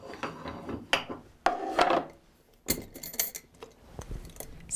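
Handmade wooden Shaker box being handled up close: light wooden clicks, taps and rubbing scrapes of the lid and sides in short irregular bursts, with quiet gaps between them and no talking.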